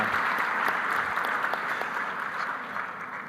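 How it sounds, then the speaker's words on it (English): Audience at an AFS Forum 2024 session breaks into steady, dense applause from many hands, loud and continuous throughout, gradually tapering slightly toward the end with no voices over it. "a round of applause once again."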